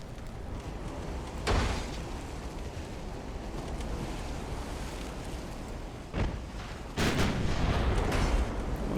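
Naval artillery fire in the Ultimate Admiral: Dreadnoughts game, a 1902 Austrian fleet battle, with heavy booming gun blasts at about 1.5, 6 and 7 seconds over a steady roar of wind and sea.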